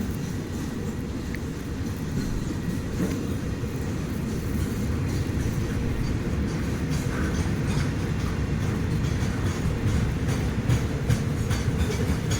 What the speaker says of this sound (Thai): ด้ยินเสียงฉึกฉักฉึกฉักมาแต่ไกลแล้ว